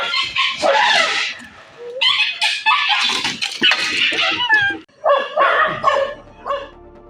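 A dog barks at a wild elephant beside a house, giving a series of loud, close, repeated barks and yelps in uneven bursts with short pauses between them.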